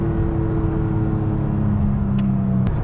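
A 2017 third-generation Toyota Tacoma TRD Off-Road with sound deadening accelerates in second gear, its engine drone rising steadily in pitch from inside the cab, loud and continuous with a few small clicks.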